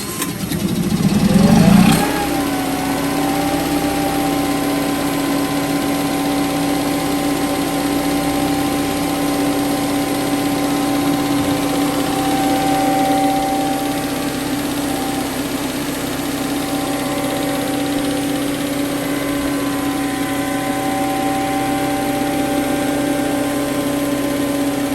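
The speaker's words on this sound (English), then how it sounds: "we have a Westerbeek generator here" A Westerbeke generator aboard a 2000 Sea Ray Sundancer 310 cranks briefly, catches, and settles into a steady, loud mechanical idle with a constant hum and tonal whine that continues unchanged.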